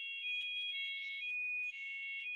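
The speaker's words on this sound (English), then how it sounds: "Sorry, that was a fire alarm test." A fire alarm test sounds in a building as a steady, piercing electronic tone that holds for the whole stretch with no voices.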